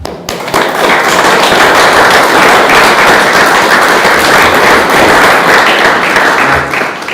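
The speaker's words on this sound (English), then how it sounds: "I give all of you a round of applause." Loud, steady crowd applause with dense clapping that swells in and holds evenly for several seconds before easing slightly at the end.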